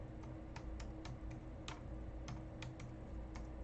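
Typing on a computer keyboard: quick, irregular clicking keystrokes close up and faint, alone with no talking.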